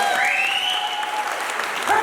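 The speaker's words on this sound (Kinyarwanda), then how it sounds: "Ako mwakomeye Imana amashyi Imana" A church congregation claps in steady, full applause while a voice rises and holds over the noise.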